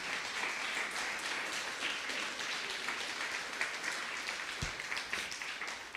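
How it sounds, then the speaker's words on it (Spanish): A church congregation claps together in sustained applause, a dense and fairly even roar of many hands filling the room, with a brief low thump near the end. "¿Le puede dar otro aplauso a Dios por su misericordia?"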